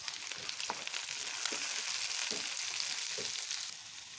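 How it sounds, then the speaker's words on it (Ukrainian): Chopped onion and carrot sizzle steadily in a frying pan, a soft continuous hiss broken by several light knocks of stirring. "Нарізаємо цибульку і морковку і кидаємо обжарювати."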